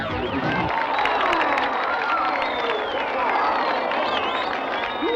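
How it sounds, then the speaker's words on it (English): A large crowd at a California surf contest cheers and roars after a backside 360, a loud sustained wall of shouts, whistles and scattered clapping. "Shane pulled off an incredible backside 360 and the crowd went berserk"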